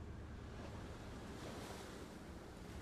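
Waves of the cold northern sea along the Newfoundland coast, a steady, dense wash of surf with wind rushing across the microphone, continuous and fairly distant, with no voices.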